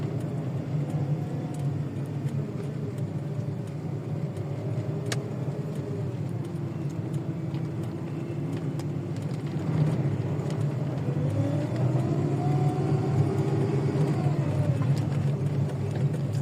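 Cars and other vehicles turning at a new diversion beside the T Chowk flyover construction in Rawat, Islamabad, giving a steady traffic rumble with engines swelling a little louder in the second half.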